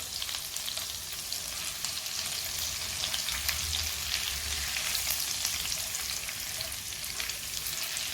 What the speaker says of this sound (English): once the garlic and ginger paste is melted and started to fry